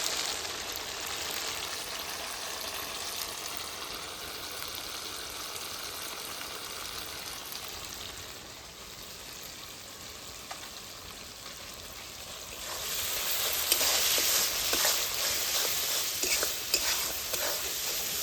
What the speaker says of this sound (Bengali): মশলাটা অনেকটা ভাজা হয়ে গেছে এই অবস্থায় লবণ হলুদ স্বাদ মতন দিয়ে দেবো